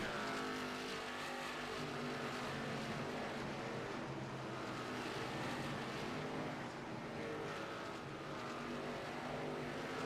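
Race cars in an ARCA racing video game at a green flag start, a dense, steady roar of several engines droning together at an even, loud level with no pauses or voices.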